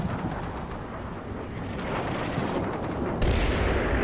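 In the wargame Combat Mission Shock Force 2, enemy artillery lands with continuous heavy rumbling booms and crackling blasts. A sharp, louder detonation near the end rises over the steady barrage, with no speech.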